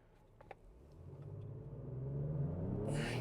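A 2025 Ford Explorer SUV launching from a brake-torque start, its engine droning and climbing steadily in pitch and loudness as the vehicle accelerates hard, with a few faint clicks at the start and no talking.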